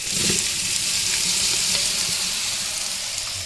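Rice tipped into a hot pot for lugaw gives a loud, continuous close hiss and sizzle. Brief stirring scrapes sit under it, with no speech.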